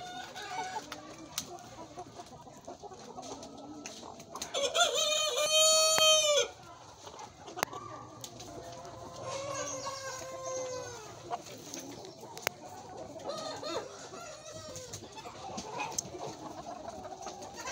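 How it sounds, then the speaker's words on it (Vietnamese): A flock of four-month-old crossbred fighting chickens clucks and chatters throughout, with one loud nearby crow partway through and scattered calls over a quiet farmyard background. "Đấy, đàn gà được 4 tháng."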